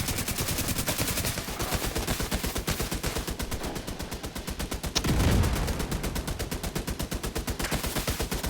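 Video game gunfire rattles in rapid, continuous automatic bursts, loud and close throughout, with a heavier thump partway through.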